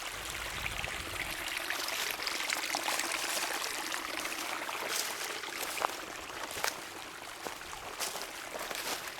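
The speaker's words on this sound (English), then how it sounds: "the water just continues to flow onto the Pimentel and Livingstone properties" Water running down a trail near the Rhode Island–Connecticut line, a continuous close trickling and gurgling flow with occasional small splashes and no voices.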